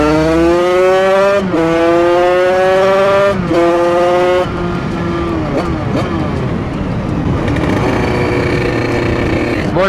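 A motorcycle with an 86cc aluminium top end revs hard in rising steps, then launches. The engine note climbs and drops through shifts, loud and close, with a dense, raspy roar that holds for the whole stretch.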